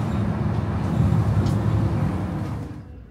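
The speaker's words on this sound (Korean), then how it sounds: "덜커니는 버스에 몸을 싣고 목적지로 향해 봅니다." A steady low rumble and rattle fills the inside of a rural Korean city bus as it travels, a continuous loud drone with rattling texture and no talk, fading slightly at the very end.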